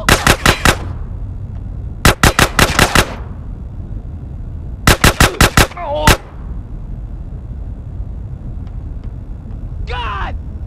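Video game gunfire in GTA San Andreas comes in three loud, rapid bursts of four to six shots each, with short pauses between them, followed by faint talk.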